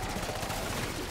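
A pack-a-punched gun firing in Black Ops 6 Zombies, a quick burst of rapid automatic shots at a dense, even rhythm, loud and close in a noisy game scene.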